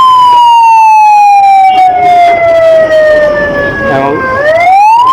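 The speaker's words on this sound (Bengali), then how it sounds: "মুহুর্মুহুর শব্দে হরন বেজে উঠছে অ্যাম্বুলেন্সের" An ambulance siren wails loud and close on Hospital Road in Maijdee, Noakhali. Its pitch glides slowly down, then swings back up, over a rumble of road traffic.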